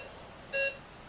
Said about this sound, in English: Either you have your alarm off or back on again.